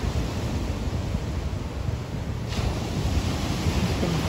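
Ocean waves on the beach at Tybee Island roll in as a constant, loud wash of surf, steady throughout with wind rumbling against the microphone.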